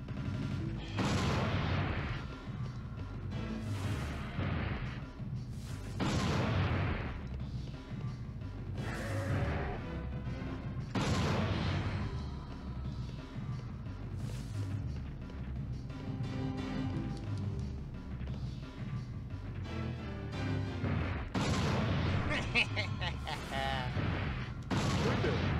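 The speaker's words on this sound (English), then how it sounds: "Anti-tank rifle against fucking raptors, yeah." Anti-tank rifle fire against raptors in the PS1 game Dino Crisis 2: heavy booming shots repeating every second or two, with crashes and game effects between them, under a player's talking.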